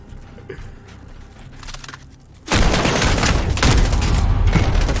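Gunfire in Call of Duty Modern Warfare (2019) campaign, a quieter stretch with distant shots that suddenly erupts into loud, dense, sustained firing and explosions up close.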